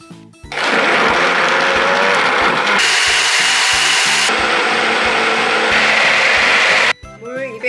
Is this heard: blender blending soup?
yes